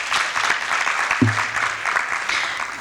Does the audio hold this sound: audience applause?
yes